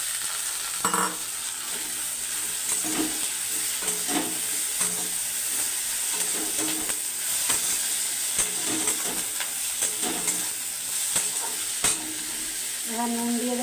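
Jute leaves frying in oil with onion and panch phoron, a steady close sizzle with clattering stirring strokes throughout, no talk.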